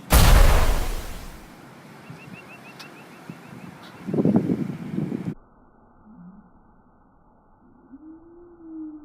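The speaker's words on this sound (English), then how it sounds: "Next, let's look at some explosions." A loud blast bursts at the start and rumbles away, followed by a second burst of crackling noise, then near-silence with faint low hum.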